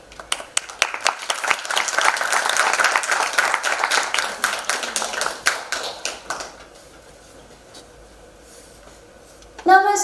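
An audience at an Iyengar yoga event at IIT Bombay applauds to welcome a demonstration team. The dense, lively clapping fills the room for about six seconds, then fades to a quiet hall, and a short burst of claps returns at the very end.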